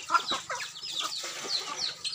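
Chickens cluck and chatter while being fed corn in a farm setting, several birds overlapping in quick, busy bursts at moderate loudness without a pause.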